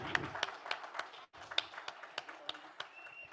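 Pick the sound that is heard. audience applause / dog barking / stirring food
audience applause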